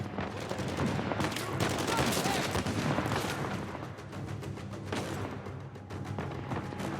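Dense video game gunfire in Uncharted 4, sustained bursts of rapid shots and loud booms layered into a continuous loud barrage, with a voice talking underneath at times.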